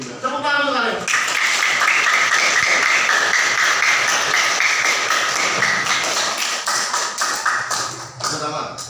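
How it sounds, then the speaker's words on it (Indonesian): A class of pupils in a lively Indonesian lesson applauds, a loud dense burst of clapping close by that lasts about eight seconds. A teacher's voice is heard just before and after. "Tepuk tangan untuk kalian."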